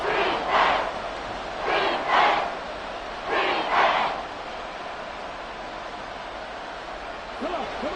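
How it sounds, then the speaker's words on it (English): A large crowd roars in three rhythmic swelling waves, like a stadium chant, then settles into a steady murmuring din. "A big play here as the crowd noise rises."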